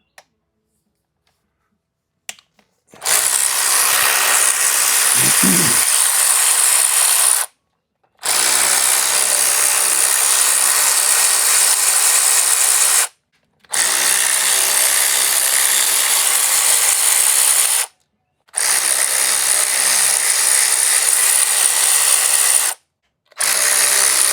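A power ratchet backs quarter-20 bolts out of a 2006 Harley Dyna, running in four loud, sustained whirring bursts separated by brief silences.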